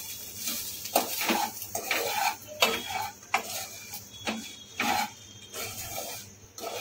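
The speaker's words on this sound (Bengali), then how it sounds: "এবার এটা একটুখানি ভালো করে নেড়ে নেবো, একসাথে মিশিয়ে নেব।" Roasted semolina is stirred and mixed in a bowl with a spoon, making irregular scraping and clinking strokes that come in uneven bursts, close and fairly quiet.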